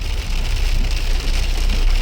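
Heavy rain, with small hail-like drops, pounds steadily on a car at night in a dense forest area, a loud, continuous dense patter with no break.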